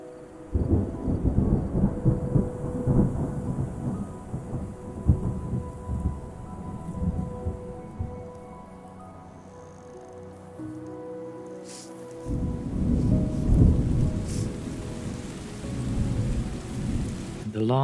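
The video game Terra Nil plays a steady thunderstorm with dense pattering rain and low rumbling thunder, easing off midway before swelling again loudly.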